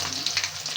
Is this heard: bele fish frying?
yes